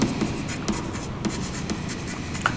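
Marker scratching across a whiteboard during a neuroscience lecture, a few short strokes and taps up close at moderate level, with no talking.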